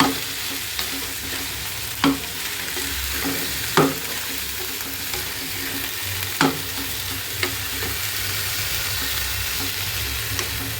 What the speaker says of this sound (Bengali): এখানে কাঁচামরিচ দিয়ে এখন একসাথে নাড়াচাড়া করে দিই